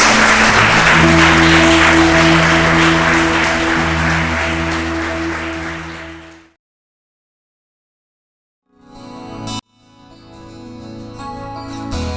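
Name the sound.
applause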